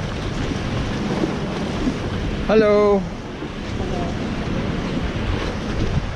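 Wind buffets and waves wash around a boat out on the ocean leaving Boracay, Philippines; someone says a brief greeting partway through.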